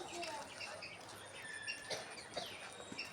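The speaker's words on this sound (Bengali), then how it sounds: "টিয়া পাখি আছে, অনেক সুন্দর সুন্দর টিয়া পাখি।" Parrots perched up in trees eating mango, giving faint scattered chirps and tweets against soft outdoor background noise.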